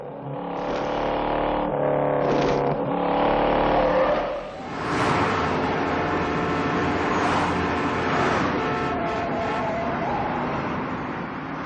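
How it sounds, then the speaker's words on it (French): Film car chase from 1968 with roaring engines and screeching tires, a continuous loud, dense engine roar that surges and briefly dips midway, with no speech. "crissement de pneus, dérapage et moteurs vrombissants"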